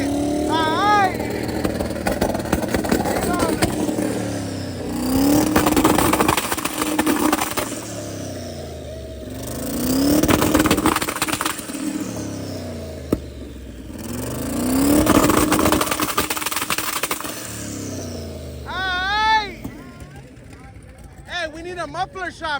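A twin-turbo LS V8 in a stretch limousine at LS Fest West in Las Vegas revs in three long, loud swells through the exhaust, with people talking over and between the runs.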